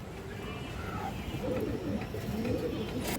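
A Khoiragola pigeon coos in low, soft, rolling phrases, close by against a steady background hum.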